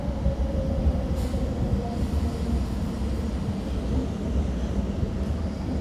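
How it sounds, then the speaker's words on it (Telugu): A MEMU express train pulls out of Gudlavalleru on the Bhimavaram–Machilipatnam route, a steady rumbling roar of wheels and motors heard from on board, loud and continuous without speech. "గుడ్లవల్లేరు నుంచి మన ట్రైన్ అయితే బయలుదేరిపోయింది"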